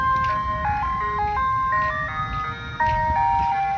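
An ice cream truck plays its jingle as a steady chain of bright, tinkling melody notes over low street rumble and engine hum, loud and close throughout.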